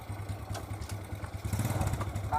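A motorcycle engine runs nearby with a low, chugging idle and a rhythmic pulsing that grows slightly louder, partly under talk.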